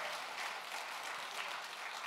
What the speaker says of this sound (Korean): 우리 큰 박수로서 뜨겁게 우리 격려하겠습니다.